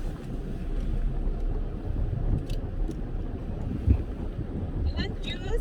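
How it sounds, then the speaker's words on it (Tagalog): Wind blowing outdoors on the Pacific coast at Ocean Shores, a steady rushing buffet with gusty rumble against the microphone, continuous throughout, with faint sounds of movement nearby. "It's windy out there."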